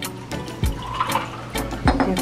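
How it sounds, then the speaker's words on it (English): Kiwi lemonade and regular lemonade poured into a glass, close and fairly loud, with gurgling splashes and a few distinct glugs as the liquid fills the glass. "And I'm going to pour both of these in."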